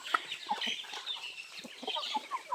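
Chickens cluck in short, scattered calls at moderate distance, with soft chirping bird sounds in the background and no talk.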